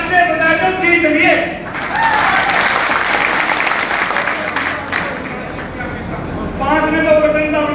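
A crowd at a political election rally bursts into loud, sustained applause and cheering. It swells and holds for several seconds between stretches of a man addressing them through an amplified speaker.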